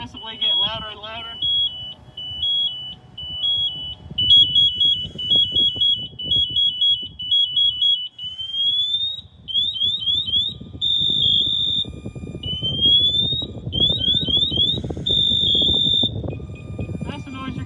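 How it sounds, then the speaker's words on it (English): A firefighter's PASS device alarm chirps in rapid electronic beeps that grow into louder rising warbling tones, sounding over a background roar and rumble, with people talking underneath. "we're going to let his pass device go off so you guys can hear the noise that we would hear if we were a down fireman."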